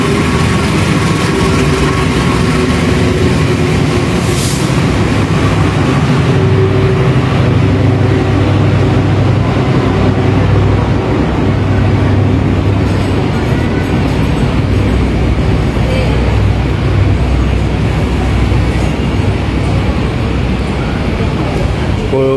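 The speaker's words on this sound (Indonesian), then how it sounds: "Kereta api Lodaya tambahan masuk jalur" The extra Lodaya passenger train pulling into a station platform, a loud sustained low engine rumble with dense mechanical noise and people talking over it.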